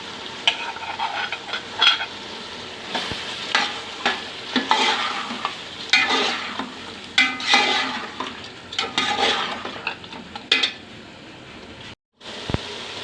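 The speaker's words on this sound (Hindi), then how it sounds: "अब हम इसमें दही डालेंगे और थोड़ा सा भूनेंगे" Mutton and yogurt fry in a pot while a spoon stirs in repeated scraping bursts over a steady sizzle, close and fairly loud, with a short pause near the end.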